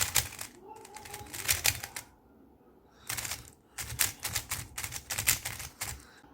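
A Qiyi MS speedcube being turned out of the box gives off rapid bursts of plastic clicking and clacking in quick runs, with short pauses between them, close and fairly loud.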